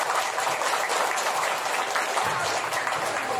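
Steady applause from a crowd at an open Quran recitation exam at a Quran school in Gandusari, Blitar, dense clapping that holds at an even level throughout without pauses.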